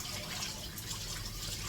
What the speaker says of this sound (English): Empty out this water.